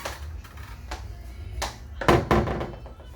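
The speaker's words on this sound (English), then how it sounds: "a privacy door." A privacy door to the master berth closes aboard a 2023 Fairline F-Line 33 hardtop yacht cabin, with a few light knocks and taps before a firm double thunk near the end, recorded close and alone.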